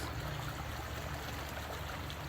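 Water runs steadily in a flowing stream, a constant close trickling and rushing wash with no voices over it.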